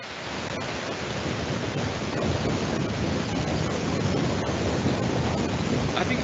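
Heavy rain roars as a dense, constant hiss into a call microphone, loud and unbroken throughout with no voices over it.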